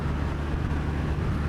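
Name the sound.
motorcycle riding along back roads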